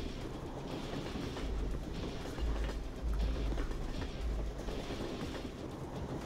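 A moving train in the video game Hunt Down The Freeman, with a low rolling rumble and periodic heavier thumps of wheels over track joints, steady and moderately quiet, no speech.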